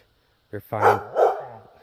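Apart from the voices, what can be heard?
dogs barking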